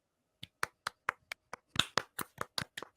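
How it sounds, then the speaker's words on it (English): A single person claps steadily in a sparse round of applause, about a dozen crisp, close claps that speed up slightly toward the end. "It's a round of applause."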